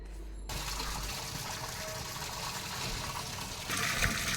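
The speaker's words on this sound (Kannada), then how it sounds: "ಈಗ ಈ ಮೀನನ್ನು ಕ್ಲೀನಾಗಿ ತೊಳ್ಕೊಂಡು ಬರೋಣ ಬನ್ನಿ" Fish being rinsed clean under a running tap for a Sunday fish meal, a steady close gush of water pouring and splashing for several seconds, briefly swelling louder near the end, with no talking.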